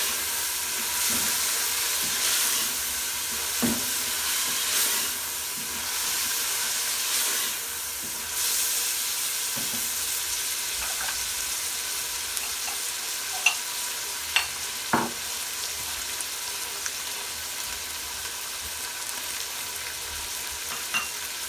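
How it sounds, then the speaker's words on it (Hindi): Minced meat deep frying in oil with spices, a steady loud sizzle and hiss running throughout, with occasional stirring knocks and a few sharp clinks near the end, no talking. "हमने अच्छे तरीके से इसे डीप फ्राई करना है मसालों के साथ।"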